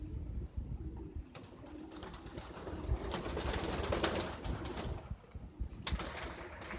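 Soft racing pigeon cooing murmurs on and off in a loft against a busy background of rustling and scattered clatter, with no talking.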